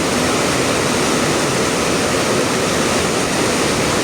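Steady, loud rush of water pouring and churning through a tunnel, a continuous broadband roar like a stream forced through a narrow channel, with no voices.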